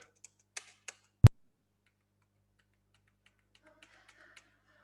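Computer keyboard keys pressed while entering vouchers in accounting software: a few scattered clicks, one sharp louder tap, then faint light taps, alone with no talk.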